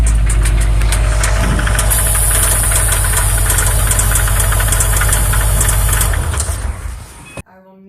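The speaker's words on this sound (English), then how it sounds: "that's when we got to experience our first spun rod bearing" A 2004 Subaru STi engine with a spun rod bearing knocks hard and rapidly at idle, a loud metallic clatter over the engine's drone, before the sound cuts off near the end.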